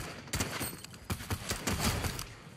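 Rapid bursts of gunfire from the Fortnite video game, several sharp shots in quick succession with a steady game background, loud and close.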